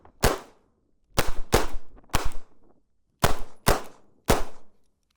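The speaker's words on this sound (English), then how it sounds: "So Hellcat is still shooting pretty darn good." Springfield Armory Hellcat 380 pistol firing at a range, seven sharp loud reports close by, spaced irregularly with a few doubled shots and short silent gaps between them.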